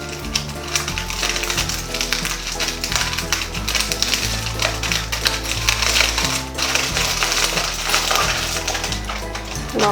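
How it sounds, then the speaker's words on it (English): Aluminum foil scrunched up by hand over a candle lid, a dense run of close crinkling and crackling that carries on without a break for the whole stretch, with no voices. "add some aluminum foil, I'll scrunch it"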